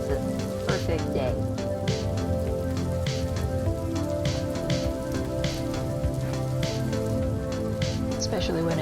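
Rain falls steadily outside, a dense close patter of drops on a surface throughout, with faint talking mixed in.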